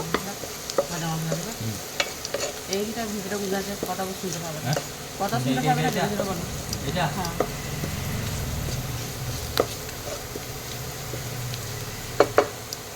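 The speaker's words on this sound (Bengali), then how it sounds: "মশলাটাকে আমি একটু পেঁয়াজের সঙ্গে ভেজে নেব।" Cumin, turmeric and chili powders fry with onion in a pan, giving a close, steady sizzle with repeated scraping stirs and occasional clinks of the spoon, as a voice speaks briefly over it.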